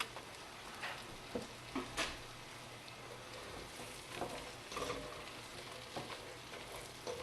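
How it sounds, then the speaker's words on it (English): Onions and mushrooms frying in pan drippings over fairly low heat, a faint steady sizzle with occasional soft stirring scrapes. "While I'm cooking the onions, I'm going to throw the mushrooms in with them."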